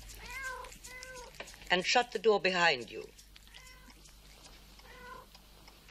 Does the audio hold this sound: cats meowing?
yes